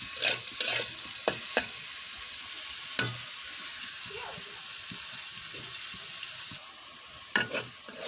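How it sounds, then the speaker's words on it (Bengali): Onions and green chilies sizzle in a frying pan for egg bhuna, a soft, steady fry punctuated by several sharp stirring clinks and scrapes of a utensil against the pan. "পেঁয়াজ মরিচ দিয়ে দিলাম।"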